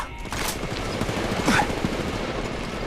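Rapid automatic gunfire in the mobile battle royale game Apex Legends Mobile, a dense continuous burst of shots with game ambience underneath, loud and close.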